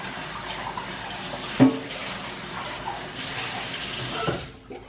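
Hot tap water runs steadily into a basin while CPAP parts are rinsed, with a brief clunk partway through and the flow cutting off at the end.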